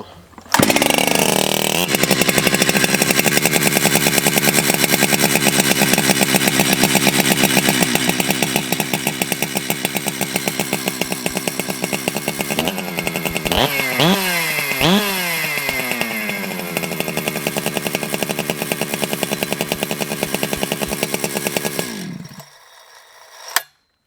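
A Jonsered 2171 (Husqvarna 372) chainsaw with a replaced fuel tank runs loud and close at a steady high idle, is revved hard in a few sharp bursts midway, then cuts off near the end.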